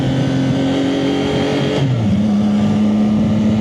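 A Triumph 675 motorcycle launches and accelerates with a loud, close engine whine that climbs in pitch, dips at a gear change, then pulls on at a steady, lower-pitched drone.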